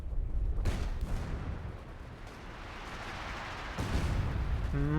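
A light artillery barrage lands in Company of Heroes 2, with heavy rumbling impacts and crackling blasts rolling close together at moderate volume and no talk.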